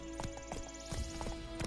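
Horse hooves clip-clop at an easy walk in The Witcher 3 video game, a handful of distinct close thuds spaced unevenly over a steady tonal game background, with no speech.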